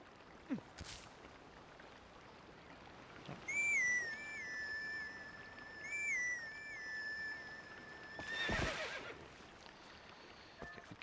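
In The Legend of Zelda: Twilight Princess, a horseshoe-shaped grass whistle plays a clear, rising and falling melody, followed by a horse's loud whinny near the end, over quiet game ambience.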